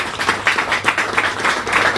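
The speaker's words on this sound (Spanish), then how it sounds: "yo les agradezco el aplauso" Indoor audience at a political talk clapping in warm, uneven waves, a fairly close crowd of hands with pulsing bursts rising and falling throughout.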